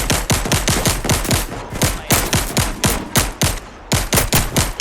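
Rapid rifle gunfire from a video game in the forager area, a steady stream of loud, close shots in quick bursts with brief gaps, no talk over it.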